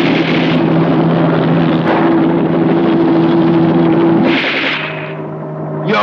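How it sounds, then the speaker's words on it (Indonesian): Helicopter in an action film, a loud, close, steady rotor and turbine drone that holds evenly, then briefly swells and shifts near the end. "dia langsung mendekati Peter dengan helikopternya"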